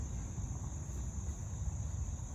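Insects outdoors at sunset make a steady, continuous high-pitched drone, layered over a low, rumbling background noise.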